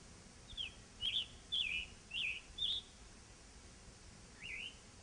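A bird sings a series of short, husky warbled phrases with a hoarse, robin-like quality and brief pauses between them, set against a faint, quiet outdoor background.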